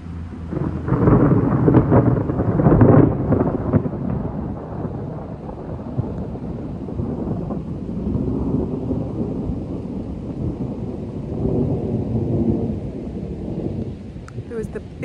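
Low thunder rumbles and rolls through a steady rain-filled storm over a garden, swelling and fading for the whole stretch.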